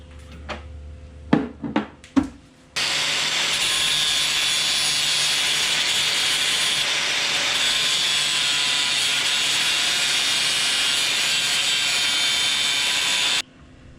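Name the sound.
sawing to trim down a go-kart brake bracket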